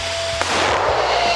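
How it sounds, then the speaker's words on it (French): A balloon is blown up until it bursts, giving a single loud sharp pop over steady background noise during a dare challenge. "Tu dois gonfler un ballon qui va aller jusqu'à l'explosion devant toi."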